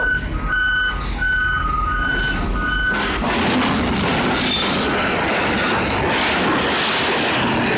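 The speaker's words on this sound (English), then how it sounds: "Can a train derail while parked?" A parked train derails, with a loud grinding rumble and metallic scraping that swell after a few seconds of beeping tones, steady and close throughout.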